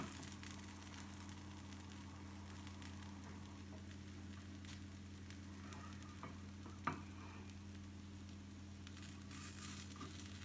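A gluten-free butternut crêpe made with a single egg fries quietly in a pan, giving a faint, even sizzle over a steady low hum, with one small click partway through and no talking.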